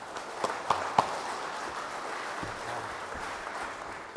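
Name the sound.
audience applause welcoming keynote speaker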